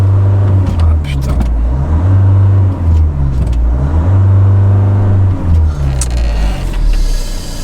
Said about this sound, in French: dès que je vais commencer à accélérer, tu pousses